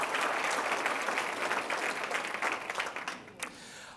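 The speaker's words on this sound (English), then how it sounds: "A round of applause for all of the businesses that help make this happen." Audience applause for sponsoring businesses at a county leaders event in Southeast Michigan, a dense sustained clapping that carries strongly for about three seconds, then thins and fades toward the end.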